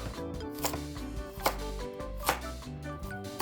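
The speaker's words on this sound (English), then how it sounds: "Then 2 carrots, then cut it the same size as the potatoes too." Two carrots cut into cubes with a knife on a cutting board, steady close knocks of the blade coming in an even rhythm, with no voices.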